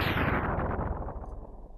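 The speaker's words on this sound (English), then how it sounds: "Running away from explosions is not as cool as not looking at them" Explosions burst in the video game Mega Man X2, a loud dense blast that rumbles on and slowly decays with rapid crackling pops, heard alone without talk.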